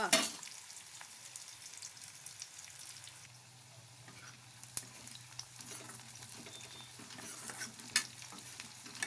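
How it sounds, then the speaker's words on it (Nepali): Onions and green chillies frying in a pan are stirred with a spatula, giving a steady low sizzle with occasional scraping and tapping against the metal, close and quiet, with no talk. "अनि यसरी अलिकति चलाउनु पर्छ"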